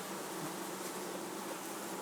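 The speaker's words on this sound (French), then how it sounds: "Au contraire, si le vrombissement se poursuit, la colonie peut être orpheline." A honeybee colony in a Dadant hive being opened gives off a steady, even hum, a faint continuous drone with no breaks.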